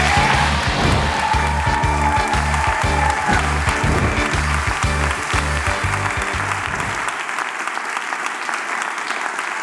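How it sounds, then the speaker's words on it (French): A large audience at a Swiss thesis-presentation final claps loudly in steady, dense applause that carries on under music, then fades and thins toward the end. "Merci d'accueillir dans un tonnerre d'applaudissements Maroussia Nicolet Di Félix."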